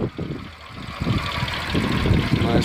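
Low, steady engine hum from a 2011 BMW 750i with a 4.4L twin-turbo V8, running evenly and fairly faint, with no talking.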